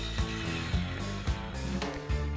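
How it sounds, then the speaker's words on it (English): A circular saw cuts through a 2x4 resting on scrap plywood, giving a steady, loud, close buzzing whine with rhythmic surges as the blade bites and moves through the wood, with no talking. "set the blade depth to just below the depth of the 2x4, and in this case I'm cutting on top of one of the scrap pieces of plywood"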